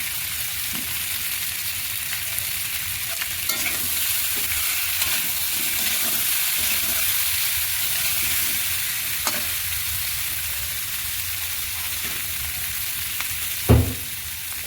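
Spices sauté with koi fish and cauliflower in a pan, giving a constant close sizzle with intermittent stirring scrapes and one sharper knock near the end.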